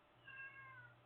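A single drawn-out cat meow with a wavering, almost speech-like tone, close by and fairly quiet over a low steady hum in an indoor room.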